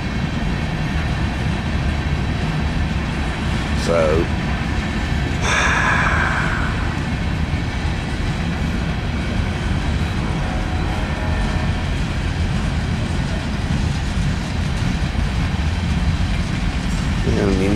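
A Norfolk Southern 17N manifest freight train led by 25G power rolls past near Alliance, a steady loud continuous rumble throughout with brief higher squeals and tones over it.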